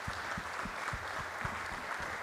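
Audience applause for a panel at a technology and innovation conference, steady dense clapping throughout with a few louder individual claps standing out near the front.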